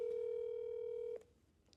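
A phone call's steady dialing tone holds as a single sustained pitch for just over a second, then cuts off, leaving faint clicks and quiet line hiss.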